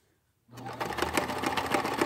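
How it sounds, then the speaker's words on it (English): A sewing machine stitches quilting through a fabric quilt block, starting after a half-second of silence and running as a steady, close mechanical whir with a rapid pulsing rhythm. "Cheating quilting kind of with the sewing machine."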